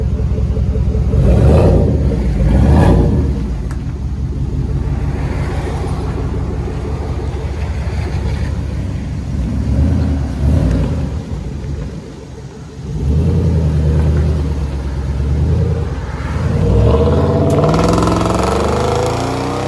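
Nissan Titan 5.6L V8 fitted with a Flowmaster Super 10 exhaust, revving in a series of loud, deep, throaty bursts that swell and settle over a steady rumbling idle, close by with no talking.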